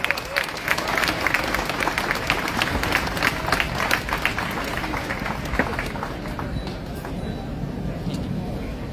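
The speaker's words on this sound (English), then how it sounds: "A big round of applause for Rafi" A rally crowd claps and cheers loudly, with dense applause that gradually settles over several seconds.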